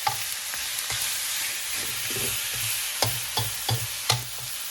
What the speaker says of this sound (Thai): แล้วก็คนให้มันแบบไก่มันสุกก่อนนะคะ